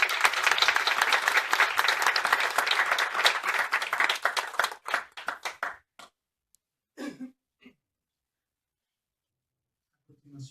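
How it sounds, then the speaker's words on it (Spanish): Audience at a social work panel gives a teacher a round of applause, dense clapping for several seconds that thins into scattered claps and dies away to near silence with a faint murmur. "Un aplauso para la maestra."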